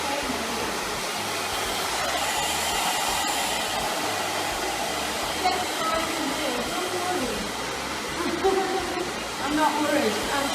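A hair dryer blowing on short pixie-cut hair, a loud steady whooshing roar throughout with slight changes as it moves, and faint voices talking underneath.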